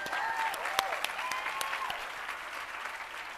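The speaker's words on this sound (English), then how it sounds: "we can clap" A commencement crowd at the USC Annenberg School of Journalism applauds, a broad wash of clapping with a voice sliding faintly over it early on, the noise easing slightly toward the end.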